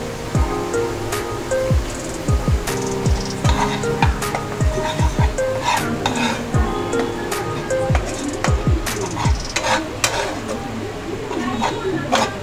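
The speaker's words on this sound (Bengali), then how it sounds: "এবার মশলাটাকে ভালো করে কষিয়ে নিতে হবে" Spice masala with Kashmiri chili powder being stir-fried for egg tadka, a steady sizzle of frying with repeated scraping stirs of the spatula, while someone talks over it.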